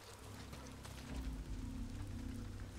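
Rain drumming steadily on a shack roof in the video game Days Gone, a dense, even patter with a low rumble that swells slightly partway through, with no talking.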